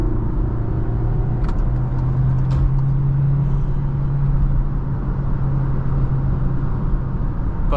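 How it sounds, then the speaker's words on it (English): A VW Jetta 1.4T with an ECS aftermarket air intake holds a loud, steady engine drone with a low rumble and a few brief higher whistles from the diverter valve. No one speaks. "a little bit of diverter valve resonance that you didn't get before is nice."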